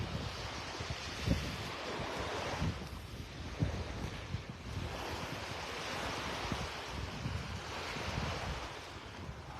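Waves break on a beach in North Naples, Florida, early on a Tuesday morning, a steady broadband wash of surf with gentle swells and some wind rumble across the microphone, with no voices.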